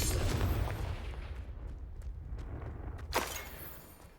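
An Incendio fire spell cast in Hogwarts Legacy gives a sustained, roaring rush of flame with a sharp whooshing flare near the end, and no one talks over it.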